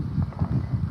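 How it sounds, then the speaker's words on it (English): Gusty wind buffets an outdoor microphone in the UK, a low rumbling roar that swells and dips in irregular pulses, close and fairly loud, with no voices. "it's a bit windy here in the UK"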